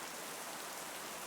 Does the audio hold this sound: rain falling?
yes